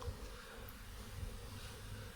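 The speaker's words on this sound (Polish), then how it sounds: "Tutaj po trawie wszędzie pełno pszczół jest." Quiet, steady buzzing of honeybees over grass in the open air in March, a faint hum with no talking.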